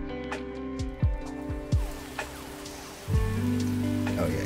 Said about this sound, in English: Oh yeah, you gotta crank up the rain.